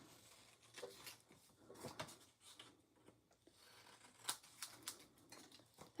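Scissors snipping through paper card while making a pinwheel greeting card, giving close, quiet crisp cuts and rustling in an irregular rhythm, with a few sharper snips and no talking.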